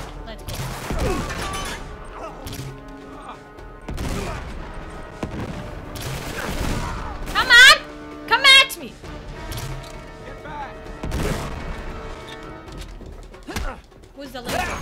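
Gunfire erupts in the Uncharted 3: Drake's Deception video game as scattered shots and short bursts of varied loudness, with a couple of sharp, louder reports midway and voices talking over the action.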